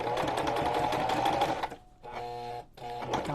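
A sewing machine stitches fabric for a journal cover in a fast, even whir that stops briefly twice and restarts, loud and close, with no talking.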